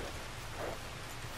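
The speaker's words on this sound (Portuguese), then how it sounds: "Essa chuva braba aí" Heavy rain pours in a Red Dead Redemption II storm, a faint, steady hiss of drops on the ground with a low rumble underneath.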